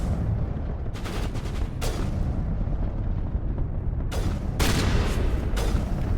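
Shotgun blasts in the video game Mass Effect Legendary Edition: several loud, sharp booming shots in two clusters, over a dense, steady roar of game combat noise.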